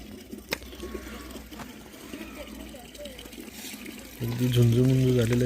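Villagers fill water from a tap in the early morning in a hamlet near Sudhagad, Raigad; a running, splashing stream sits beneath nearby talking and bird calls, with a voice growing louder near the end.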